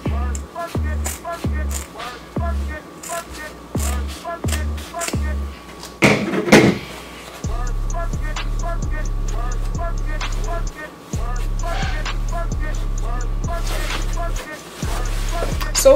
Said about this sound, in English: now I'm going to use my serger to close this and also to stitch it and edge of it